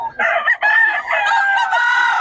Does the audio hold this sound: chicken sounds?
yes